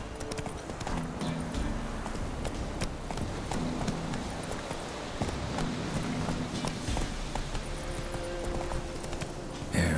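Hooves of Roach, Geralt's horse in The Witcher, clip-clopping steadily at close range, a regular rhythmic clatter that runs for the full ten seconds.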